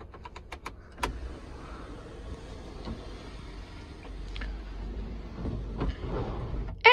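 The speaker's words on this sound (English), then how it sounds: "you do have a little windscreen that'll pop up when you open the roof" Electric motor whir and mechanical clunks as the convertible roof of a 2013 Volkswagen Beetle Fender edition opens and the small windscreen pops up, with a sharp click near the start and a louder thunk at the end.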